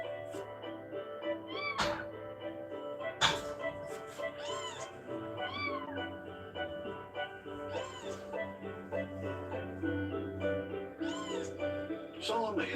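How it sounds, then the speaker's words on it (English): A box of young kittens cries and meows over and over in overlapping high-pitched calls, close and busy throughout, with a steady low hum underneath. "her noisy box of crying kittens"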